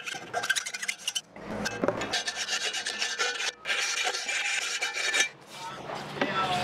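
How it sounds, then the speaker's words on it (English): Someone hand-files burrs off the metal mating surface of a worm drive anchor winch, with repeated raspy strokes in an uneven rhythm and short pauses between them, close and clear. "I always try to file up, away from the bearing surface."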